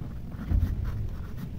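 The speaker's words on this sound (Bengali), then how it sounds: "তো এখানে লিখে দিচ্ছি" Pen moving on paper in a Bengali maths lesson, a soft, close scratching that runs steadily through the moment with no voice over it.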